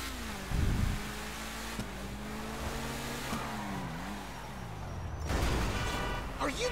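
A car driven recklessly in GTA 5, its engine revving and shifting pitch as it speeds along, with sharp bumps and a loud burst near the end; voices talk over it.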